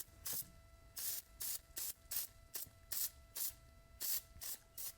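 Short hissing bursts of aerosol lubricant spray onto garden tractor mower steering bearings come in a rapid irregular series, about a dozen quick spritzes, close but quiet, with no speech.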